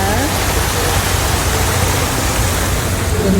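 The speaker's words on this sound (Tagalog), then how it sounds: "May falls pa." Falls at the Erawan Museum in Bangkok pour in a steady, dense roar of rushing water that holds level throughout, close and loud, with a voice faintly speaking beneath it.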